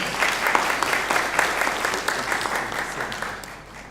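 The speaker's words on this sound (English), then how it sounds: "Let's give him a clap as he comes." Audience clapping at an African curriculum conference in Nairobi welcomes a guest, a lively dense burst of many hands that gradually tapers off, with no one speaking over it.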